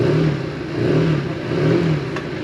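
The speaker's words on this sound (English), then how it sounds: "Nice little rev." A cheap 125cc motorcycle engine revs in a few rising and falling swells at close range, with no talk over it.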